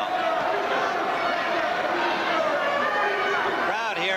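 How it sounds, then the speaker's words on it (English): Boxing-match crowd noise from a 1980 fight, a dense sustained roar of chatter and shouting with voices rising near the end. "The crowd here has been very involved in this fight."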